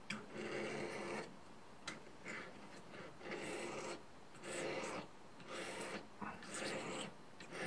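A knife blade is drawn across a Fallkniven DC3 sharpening stone in repeated rasping strokes, each about half a second to a second long with short pauses, close and fairly quiet.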